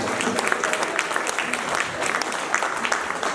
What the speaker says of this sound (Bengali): জোরে একটি করতালি